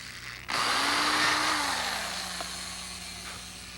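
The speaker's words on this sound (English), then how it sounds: "All right, we got our pilot holes drilled." Power drill boring pilot holes into gel-coated teak wood on a boat, a single sharp whirring burst that kicks in abruptly and winds down over a few seconds, close and loud.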